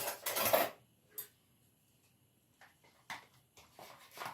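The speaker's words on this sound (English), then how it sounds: "let's see if I can stir this." A utensil scrapes and clinks in a bowl of egg salad for a croissant sandwich, with a few short bursts of stirring separated by quiet pauses.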